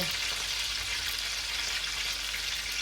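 Pork ribs frying in a pan give off a loud, steady, close sizzle with a dense hiss that holds unbroken throughout.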